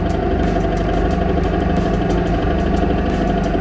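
A Suzuki Burgman 650 Executive scooter engine idles in a garage after being opened up and worked on, a loud, close, steady low rumble with an even pulsing throb and light mechanical ticking.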